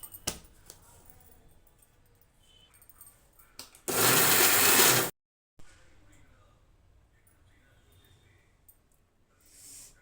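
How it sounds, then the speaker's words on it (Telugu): A mixer grinder whirs loudly for about a second in a short burst, blending red chilli paste with coarse salt, framed by quieter kitchen handling sounds and someone speaking before and after. "దీంట్లో మనం మిక్సీ పట్టేసుకుందాం"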